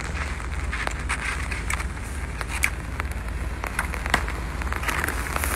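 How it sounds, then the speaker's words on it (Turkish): Steady, dense heavy rain patter drums on an umbrella close by, with scattered sharper drops clicking through a constant wash of noise. "Şemsiyeyi kapatamıyorum çünkü gerçekten çok yağmur yağıyor."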